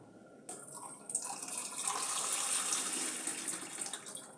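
Tap water runs into a bowl of rice being rinsed in a kitchen sink, starting suddenly and then pouring steadily with a splashy, hissing flow at close range; nobody talks.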